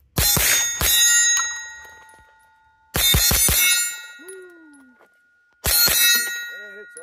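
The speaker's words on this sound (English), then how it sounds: "So let's go ahead and send some rounds down range and see how she does." Ruger PC Carbine shots fired down range in three loud bursts of rapid sharp reports, each followed by bright ringing clangs from struck steel targets, with lingering metallic tones between strings.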